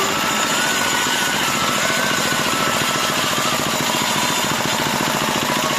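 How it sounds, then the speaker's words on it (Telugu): A freshly rebored engine runs steadily up close, a loud continuous rattling drone with a rapid, hammering pulse throughout. "ఇంజన్ సౌండ్ అయితే మీకోసం వినిపిస్తా"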